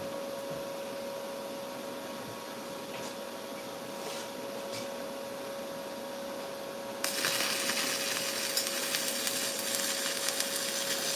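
A stick welder runs a 308L-16 stainless steel rod on stainless steel, first as a steady crackling hiss, then as a louder, harsher, brighter buzz that holds on to the end, up close and without talk.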